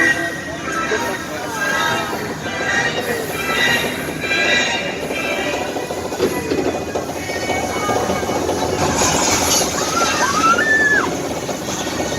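Steady rumbling and clattering of a studio tour tram in motion at Universal Studios Hollywood, with a high squeal near the end and background voices throughout.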